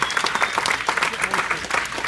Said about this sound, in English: I think we owe them an applause, right?